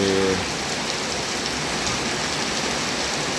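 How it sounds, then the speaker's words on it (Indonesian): Heavy rain pours steadily, a dense, even hiss of water hitting surfaces throughout, loud and close with no pauses. "Sore ini kembali lagi turun hujan keras."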